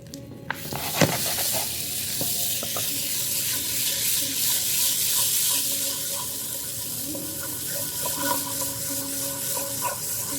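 Curry leaves and ginger garlic paste temper in a hot pan. A sharp crackle as the paste hits the oil gives way to a loud, continuous sizzle with faint scraping and stirring, and no voices are heard.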